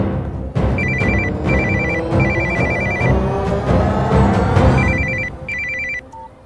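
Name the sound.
mobile phone ringing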